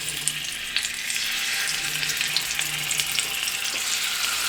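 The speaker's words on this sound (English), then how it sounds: "So we got to sear this on all sides." Oxtail sears in a pan coated with olive oil, a steady close sizzle and crackle over medium heat with a few sharper pops, continuous and alone without any voices.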